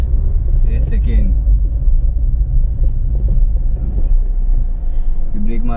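Steady low engine rumble from a Maruti Swift petrol car being driven and shifted through first and second gears in Thane, Mumbai, heard from inside the cabin while someone talks over it.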